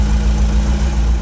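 A VW Vanagon Tristar Syncro Doka engine idles steadily with a tight exhaust note, a loud, even low rumble with constant vibration running uninterrupted throughout.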